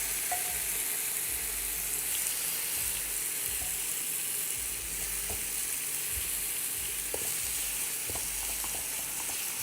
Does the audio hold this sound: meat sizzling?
yes